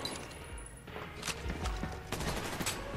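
Blind-fire gunfire from Army of Two: The Devil's Cartel, sounding as a dense run of loud, close shots with bursts and thumps over about three seconds against steady game ambience.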